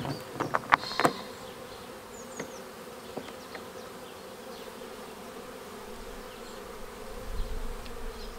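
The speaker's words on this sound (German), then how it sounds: "Da sind ein paar Bienen drin, ja." Honey bees humming in a steady low drone around an opened hive during an April brood and food check, with a few sharp knocks and clicks of hive handling near the start and no talking.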